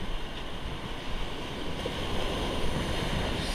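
Ocean waves breaking on a beach along the Konkan coast at Bhogwe, a steady, moderately loud wash of surf mixed with wind noise, with no one talking.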